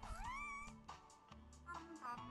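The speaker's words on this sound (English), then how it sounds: "Oh, look at the kitty." A cat meows with a rising, drawn-out call, followed by a few shorter, softer mews, close and fairly quiet against low background noise.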